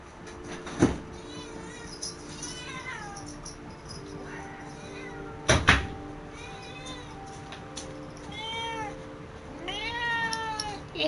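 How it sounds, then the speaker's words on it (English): A cat meows repeatedly indoors near the mic, several rising and falling cries spread out with quiet gaps, a couple of louder knocks in between. "I'm gonna bring my cat in here."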